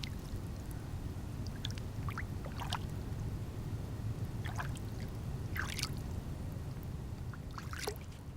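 The Pecos River flows steadily as a continuous broadband rush, with scattered brighter splashes and drips rising above the even wash of water and no voices.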